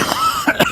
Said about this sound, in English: He says as he coughs away.